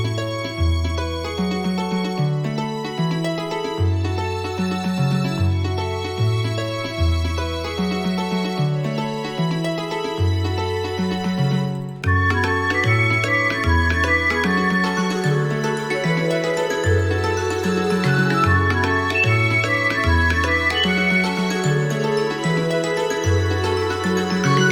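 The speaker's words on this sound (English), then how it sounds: "We also have a violin here, which follows the chord progression too" A violin follows a chord progression over sustained chords, moving steadily through the changes with a fuller layer joining halfway through, played alone without any talking.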